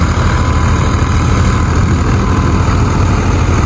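A tractor engine runs loud and steady in a village, with a continuous low, rumbling drone and no breaks.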